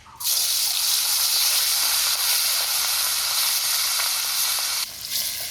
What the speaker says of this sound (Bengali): আগে পিসগুলো ভাজি, পরে কাটা কুটা ভাজি।